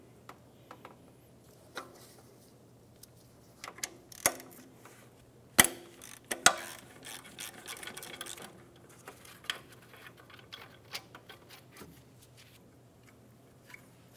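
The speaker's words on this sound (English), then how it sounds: "Using a 14mm socket, I'm going to remove the bolt on the top of the alternator." Ratchet wrench with a 14mm socket loosening the top alternator bolt on a 2007-2012 Nissan Altima, quiet irregular clicks with a few sharper metallic clanks, close and unaccompanied by talk.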